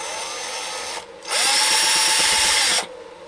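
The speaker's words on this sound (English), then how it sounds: "I'm going to be using my drill" A power drill whirs steadily, then bites into plastic on a 1/35 scale landing craft model with a louder, harsher grinding whine for about a second and a half before easing back.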